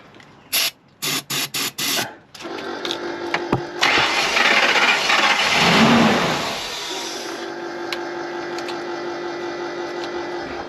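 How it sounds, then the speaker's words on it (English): An old RV engine left unused for years cranks in several short bursts, then catches with a roaring surge and settles into a steady, loud idle. "Well, it means the engine runs."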